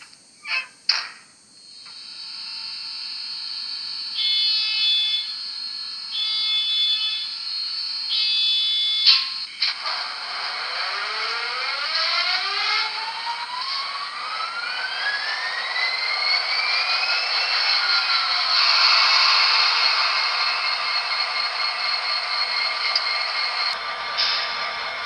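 A Broadway Limited N scale SD40-2 model locomotive sound unit. Short horn blasts and bell tones come first, then a diesel engine sound that rises in pitch as it revs up, steady and close, with no talking.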